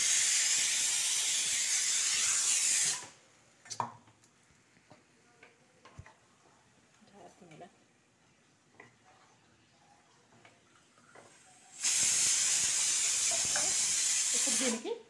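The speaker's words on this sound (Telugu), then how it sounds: "ఇప్పుడు ఇందులో చికెన్ ఉడుకుతూనే ఉంది." Chicken cooking with salt and ginger-garlic paste in a pot gives a loud steamy hiss at the start, then a quiet stretch with small clinks and bubbling, before the strong hiss returns near the end.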